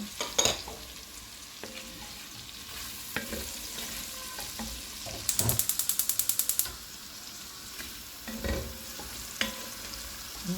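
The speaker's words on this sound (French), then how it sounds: "Je vais rajouter juste un petit peu de l'ail." Garlic frying and being stirred in a Le Creuset pot, a low sizzle under repeated scraping clinks, with a brief rapid ratcheting burst partway through and scattered knocks of utensil on the pot.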